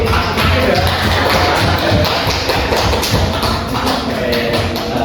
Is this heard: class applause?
yes